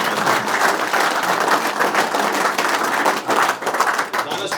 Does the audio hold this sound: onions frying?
no